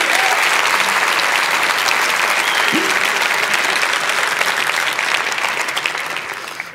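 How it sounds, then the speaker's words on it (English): A conference audience applauds the event organizers, a dense, steady wash of clapping from a large crowd that carries on evenly throughout and tapers slightly at the end. "So one more round of applause to all of the organizers for putting this together."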